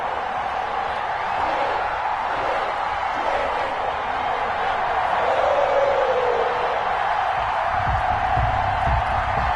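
Stadium crowd noise from an EA Sports NFL video game, Cleveland Browns versus Cincinnati Bengals: a loud, constant roar of cheering fans filling the whole stretch, with commentary voices mixed in underneath.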